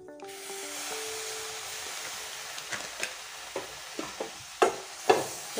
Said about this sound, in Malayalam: ഇത് നല്ലപോലെ മിക്സ് ആക്കുക.